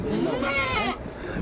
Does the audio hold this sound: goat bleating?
yes